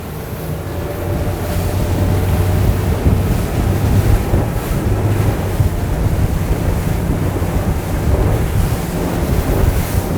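A boat with trim tabs getting up on plane, steady loud engine drone and rushing wind noise buffeting the microphone over splashing waves throughout, no one talking.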